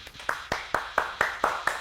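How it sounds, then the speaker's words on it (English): A group claps in a steady rhythm, about eight sharp claps at an even pace, fairly close and moderately loud, with no speech over them. "Everybody clap."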